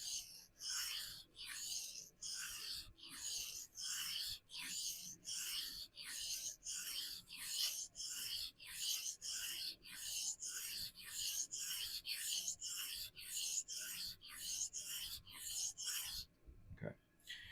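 Knife blade being sharpened on a sharpening stone, with even, rhythmic rasping strokes repeating about twice per second, close and steady, ending with a short knock.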